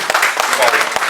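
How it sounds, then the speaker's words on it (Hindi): Brief burst of audience applause at an honoring ceremony hosted by an Uttarakhand association, clapping loud and close for about a second. "जोरदार तालियां"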